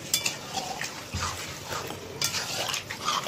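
Prawns, spring onion and boiled potatoes with their cooking water being stirred in a pan, giving scattered scraping and clinking of a utensil against metal with light liquid sloshing, close and fairly quiet.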